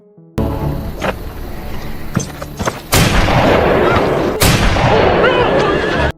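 Gunfire in a film scene rings out in sharp, loud shots, a few scattered cracks followed by two heavy booming blasts over a dense rumbling background.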